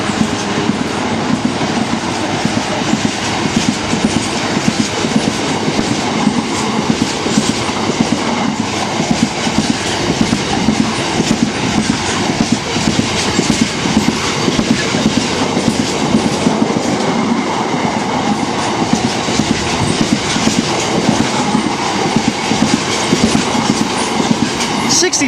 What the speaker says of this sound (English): the freight train didn't actually go and blooming nearly blow me off the station